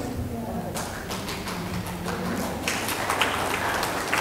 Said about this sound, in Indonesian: Kenapa tepuk tangan?